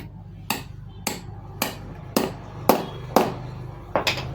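Hammer blows fitting a pulley onto the shaft of an old ceiling fan under repair, eight sharp, evenly spaced metallic strikes about half a second apart, close and loud over a steady low hum.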